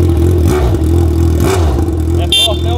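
Yamaha XJ6 motorcycle engine running loud and close, a steady rumbling idle with short revs rising and falling, and a brief higher whine near the end.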